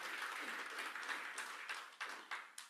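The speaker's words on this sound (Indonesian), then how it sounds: "Berikan tepuk tangan bagi Tuhan." Applause from a congregation during a church service, a fairly faint spread of clapping that thins out into a few separate claps near the end.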